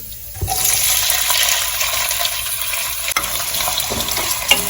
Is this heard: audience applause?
no